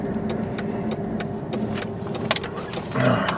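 A black 2005 Saturn Vue FWD with a 5-speed manual drives slowly and turns around, its engine a steady mid-level hum under faint tyre and road noise, growing a little louder near the end.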